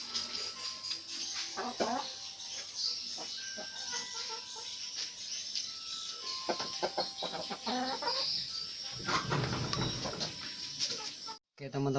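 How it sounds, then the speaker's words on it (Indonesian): Chickens cluck and murmur nearby in a coop, with the steady background chatter of a flock. One of the birds is said to have a respiratory illness that causes snoring, but no distinct snoring is heard. "sekarang kita langsung cara mengobati ayam yang ngorok"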